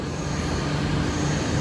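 An MTR train rumbles steadily through Kowloon Bay Station, a continuous low rolling roar of railcars on track with no pauses and no voices.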